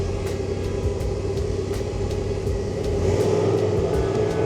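A Polaris RZR Turbo R side-by-side running in low gear, its engine giving a steady, loud, close drone with a faint rise in pitch toward the end, and no voices.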